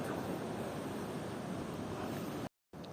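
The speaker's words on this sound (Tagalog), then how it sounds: "Ito po yung dagat ng Luna, La Union." Sea waves wash onto the beach at Luna, La Union, a steady broad surf roar blended with wind buffeting the microphone, briefly cutting out near the end; no one speaks.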